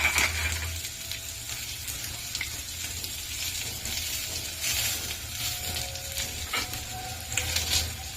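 Curry leaves fry in hot oil for a Maharashtrian peanut chutney, giving a steady, crackling sizzle with occasional clinks and stirring scrapes close by and no talking.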